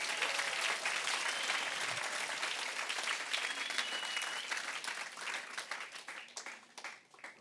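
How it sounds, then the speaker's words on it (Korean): A church congregation applauds during a sermon, a broad wash of many hands clapping at moderate distance that swells, holds for several seconds, then tapers unevenly toward the end. "박수 칠 거면 하나님한테 박수 치면 제대로 박수 쳐 주세요."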